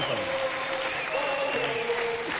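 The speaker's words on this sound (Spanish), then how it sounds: "Este aplauso es para el pollito Fuente." Muffled applause plays over a tonal background from a reaction stream, a thin steady patter of clapping mixed with a faint voice-like drone, quiet and low in fidelity.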